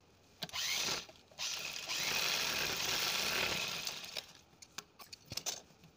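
A sewing machine runs in two long bursts of steady motorized whirring as it stitches the edge of a princess cut blouse, then slows into short, stuttering starts and stops.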